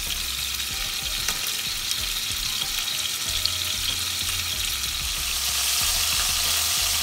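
Mahi mahi fillets fry in a hot, oiled pan over a medium flame for Mexican-style fish, giving a continuous close crackling sizzle with scattered pops and a slight swell toward the end.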